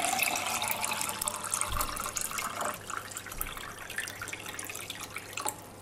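Reverse osmosis water pours into a glass close by, a continuous splashing, trickling stream that dips and picks up again, with small drips toward the end and no talk.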